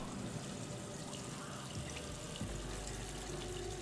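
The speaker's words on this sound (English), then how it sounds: "Turn the water on." A water tap running steadily in Redfall, giving a continuous faint splash and trickle into a sink, heard alone and without any voice.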